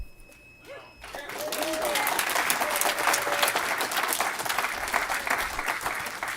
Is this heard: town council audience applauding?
yes